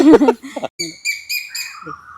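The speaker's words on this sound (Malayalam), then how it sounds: "കുയിൽ വന്നാണ്ടാ" An Asian koel calls in an areca nut and pepper plantation: a few rising, whistled notes come after a short burst of human voice at the start.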